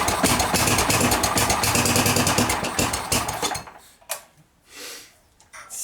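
A small gasoline snow blower engine runs loud and steady as more throttle is applied, then sputters and drops away, leaving a few faint bursts and brief rises in near silence.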